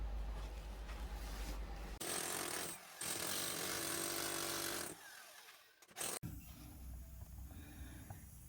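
Ground is broken open with a jackhammer-like power tool to reach a leaking hot water XL pipe at a rounded bend. Loud, close hammering comes in long bursts separated by brief pauses.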